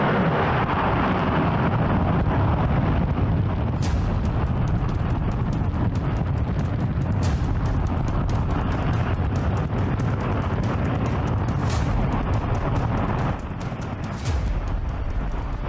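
A J-2X rocket engine test firing roars as one continuous, dense, loud blast of broadband noise that lasts throughout, with sharp crackles cutting through.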